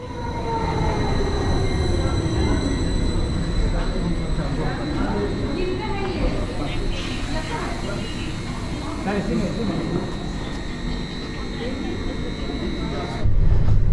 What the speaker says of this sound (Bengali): স্টেশন থেকে ট্রেনটা জাস্ট বের হচ্ছে